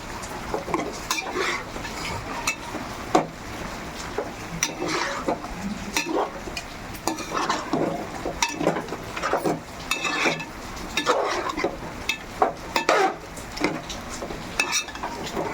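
Ginger garlic paste being stirred into a large pot of curry, about two kilos, with steady repeated scraping and clanking of a spoon against the metal pot over a light frying sizzle, close and busy, no voices.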